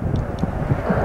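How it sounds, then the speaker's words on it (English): Red Arrows Hawk T Mark II jet trainer passing overhead at an air display, a steady broad roar of moderate loudness with wind buffeting, sustained through the whole moment. "the Hawk T Mark II, the Royal Air Force's newest advanced jet trainer"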